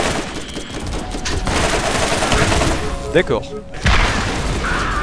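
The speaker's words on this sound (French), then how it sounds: "C'est qui tire un missile?" Missile launch and gunfire in the Borderlands video game, rapid bursts of shots and a heavy boom with a whooshing streak, under excited French-speaking players.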